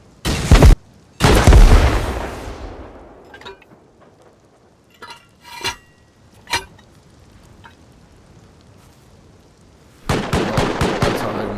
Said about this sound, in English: That sounds like my turrets are going off on my raid base.